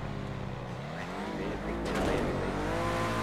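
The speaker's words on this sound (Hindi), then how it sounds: "इनकी गाड़ी की आवाज़ आ रही है मुझे" A car engine in the GTA 5 video game, a droning motor rising in pitch with mechanical rattles and a brief screech, steady and fairly loud.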